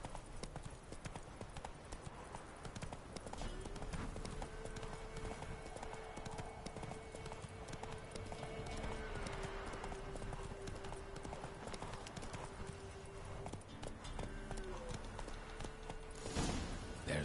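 A horse gallops in a video game with rapid, continuous clip-clop hoofbeats throughout, set against a busy game soundscape with faint tonal music.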